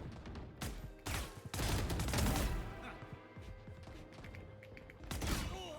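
Rapid bursts of video game gunfire crack in clustered volleys, loud and close, with mechanical clatter between shots and a voice speaking in between.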